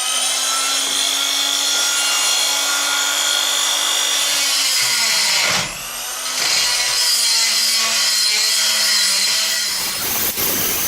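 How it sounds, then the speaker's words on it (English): Metal being machined out to clear weld burrs before TIG welding, a steady, loud grinding whine with a constant pitch that briefly dips and cuts out midway, then resumes and runs on evenly. "we're going to machine this out so we have clean metal"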